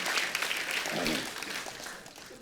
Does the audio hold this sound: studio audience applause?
yes